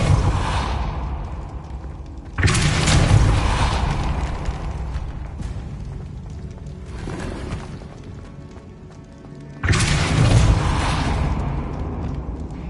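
A Depulso spell cast in Hogwarts Legacy lands as a heavy forceful blast, with several booming bursts spaced several seconds apart, each swelling loudly and then fading into a rumbling tail.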